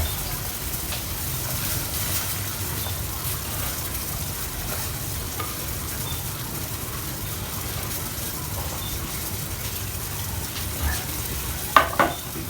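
Sliced fingerroot (krachai) fries in a pan with a steady, moderate sizzle throughout, a couple of sharper clinks near the end, no talk over it.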